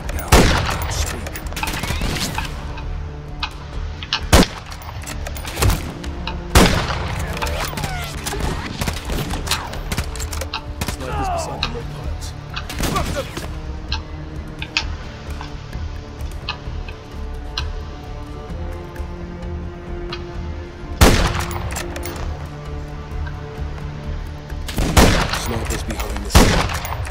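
Sniper gunfire in Call of Duty Modern Warfare 3 on the Highrise level: sharp, loud rifle cracks come at irregular intervals over a steady ticking and rattling battle bed, with a few heavier booms.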